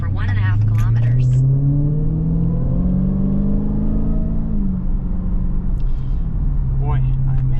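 A car being driven on a suburban avenue, a steady low engine rumble with a gently rising then settling tone, close and continuous; brief speech-like sounds appear at the start and near the end.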